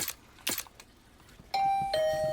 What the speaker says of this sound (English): The sound of a doorbell sent a chill up my spine.